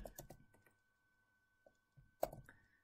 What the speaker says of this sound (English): Okay, so I'm going to type in